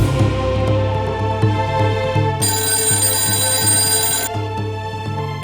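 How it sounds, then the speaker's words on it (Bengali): An electronic telephone ringtone plays loudly and continuously, a bright repeating melodic ring that runs the whole time. "রিং হচ্ছে"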